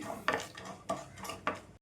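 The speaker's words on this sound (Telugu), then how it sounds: "కొద్దిగా మినపప్పు అండి చూడండి వేసేసుకొని కొద్దిగా శనగపప్పు వేసుకొని మంచిగా ఫ్రై చేసుకోవాలండి" Urad dal and chana dal fry in a pan as a tempering for an amaranth-leaf and moong dal fry. Three distinct metallic scrapes and clinks of a spoon against the pan sound close, with a faint sizzle between them.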